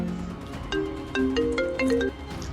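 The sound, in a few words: phone ringtone, incoming call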